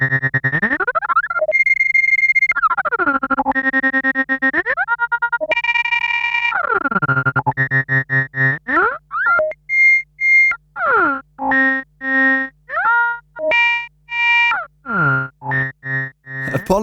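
A 1979 Roland System 100m modular synthesizer patch plays sweeping, gliding tones, then choppy pulsing notes jumping between pitches in a steady rhythm, loud and close with no voices.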